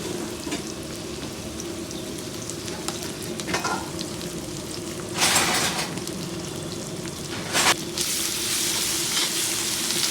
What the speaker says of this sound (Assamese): এতিয়া আমি আদা নহৰু দি আছোঁ